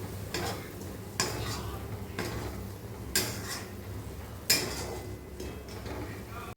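A spoon stirs prawn curry masala with onion, coriander and cumin powder in a pan, giving soft rhythmic scrapes and knocks every second or so over a low sizzle.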